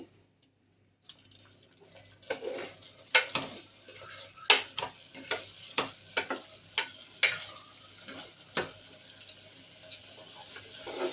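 Sprouted moong being roasted with spices in a pan, with a metal spoon scraping and clanking against the pan in irregular repeated strokes over a soft sizzle, close up and with no talking.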